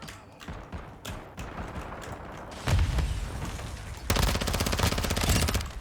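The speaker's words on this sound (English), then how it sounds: "already gunshots are way louder and sharper" Rapid gunfire from an online shooter match heard through a JBL Quantum 200 gaming headset, with sharp machine-gun bursts, booming impacts and loud sustained volleys growing denser toward the end.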